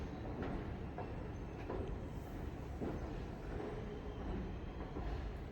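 The Ernakulam to Kannur Intercity train crawls slowly across the Bharathapuzha river bridge, a steady, loud rolling rumble with faint rhythmic wheel clatter. It is heard from on board, with no voices.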